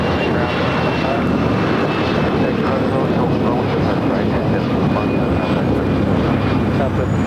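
A passenger airplane at LAX airport roars continuously and loudly, a broad steady rumble of jet engines filling the whole stretch without pause.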